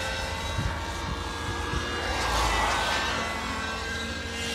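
Nitro-powered Synergy N7 RC helicopter running with its engine set very rich, giving a steady, loud, buzzing drone throughout with a slight sag and swell in pitch as the engine lags under load.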